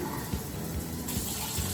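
Water pours steadily into a plastic bowl for homemade no-cook playdough, a continuous close rushing splash with no talking.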